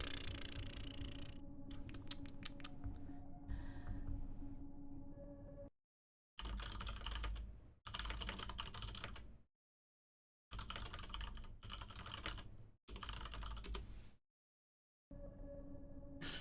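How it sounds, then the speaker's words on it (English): Typing on a computer keyboard in bursts of rapid, close clicking keystrokes, separated by several moments of complete silence, with a faint steady background hum. "I was typing it. I typed it faster."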